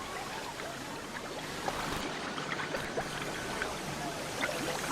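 Defoamer is poured into the water of a river caves ride, a steady splashing trickle with a broad hiss and scattered small droplet sounds.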